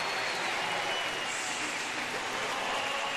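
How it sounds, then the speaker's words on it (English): Sustained applause and cheering from a baseball crowd in Washington giving Bryce Harper an ovation, a dense even wash of clapping with no commentary over it. "Let's check out the ovation for Bryce Harper."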